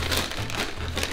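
A McDonald's paper bag crinkles and rustles in a short, close, continuous burst with no voices.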